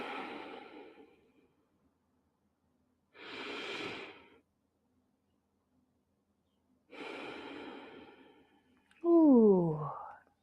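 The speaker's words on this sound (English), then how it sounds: "then we breathe and lift" Slow, deep breaths during a guided relaxation breathing exercise, three long breathy inhales and exhales separated by quiet pauses, ending with a short voiced sigh.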